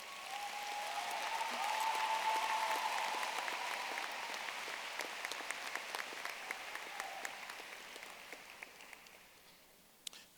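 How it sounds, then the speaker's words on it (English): Applause from a large high school graduation crowd for the class of 2024 salutatorian, swelling early then gradually thinning to scattered distinct claps before fading out, heard from a distance. "let's give her one more round of applause"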